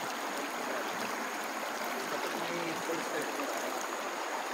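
Constant broadband rush of a flowing river, steady and fairly close, with a faint tonal element in the background and no clear talking.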